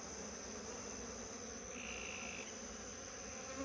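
Honeybees hum steadily at a nuc hive after foragers return, a constant faint buzzing drone alongside insect chirps and no talking.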